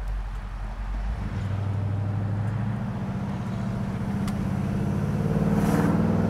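A 1970 Chevrolet Chevelle with a 10-to-1 compression engine accelerating on a main road, a low engine rumble heard from inside the car that rises steadily in pitch and loudness.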